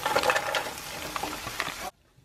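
Onions and spinach leaves sizzle in oil in a frying pan while being stirred, a loud, close crackle with scraping stir strokes that cuts off abruptly near the end.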